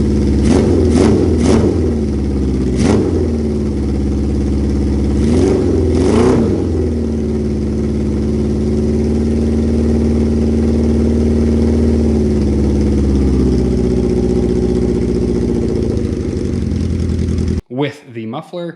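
A motorcycle with a Delkevic stainless exhaust and a Cone Engineering muffler runs at a loud, steady idle, with several sharp throttle blips early on before it settles into an even rumble.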